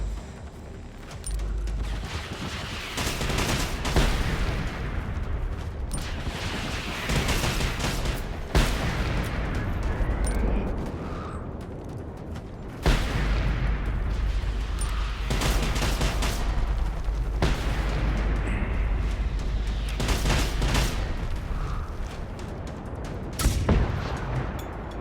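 In Generation Zero, grenades and guns go off in repeated loud, booming blasts. Sharp gunshots and deep rumbling explosions recur every few seconds and overlap with a low sustained rumble.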